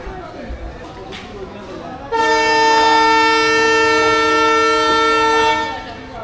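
The Kanchan Commuter Train sounds a long, loud, steady horn blast for about three and a half seconds as it pulls out of a quiet station, following a few seconds of low background murmur.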